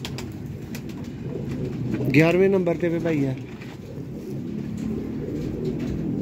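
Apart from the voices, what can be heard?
pigeons cooing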